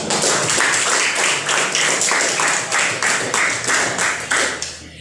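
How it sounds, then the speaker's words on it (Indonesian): A class of students claps for a group after its presentation in an Indonesian teacher-training session, loud and close, with the clapping swelling in regular pulses about twice a second and fading at the end. "kita berikan tepuk tangan"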